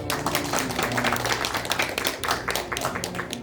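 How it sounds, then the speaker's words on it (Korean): Graduates and guests at a Korean theological seminary commencement clap, a lively, uneven patter of individual hands with distinct claps standing out, moderately close and steady. "박수해 주세요."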